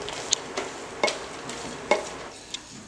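Roasted peanuts and spices stirred in a pan for yellow tomato kuzhambu, a few sharp scraping strokes with soft dry rustling between, close and alone.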